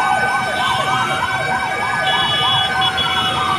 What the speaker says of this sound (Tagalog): Ayan ang Malacanang fire truck mga kababayan.